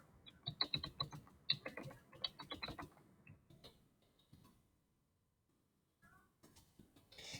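Computer keyboard typing while entering a quiz question, with quick irregular bursts of key clicks up close for about four seconds, then a quiet pause and a few scattered taps.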